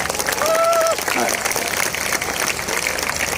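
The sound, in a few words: audience clapping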